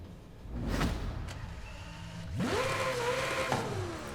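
A Ferrari J50 sports car engine in the video game Forza Horizon 5 revs up sharply, holds a high whine, then drops back, preceded by a couple of brief knocks; loud and close.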